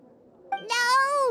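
A cat meows in a video game set in Inazuma, with a short chirp followed by one long, drawn-out, clear meow that rises and falls, close and fairly loud.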